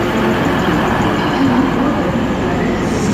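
Steady rumbling roar of a train interior, a constant broadband rush and low hum with no pauses or voices.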